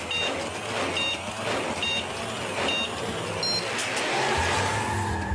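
Toy or game race car starting a race, with a continuous loud engine drone, periodic high beeping tones and a squealing skid near the end.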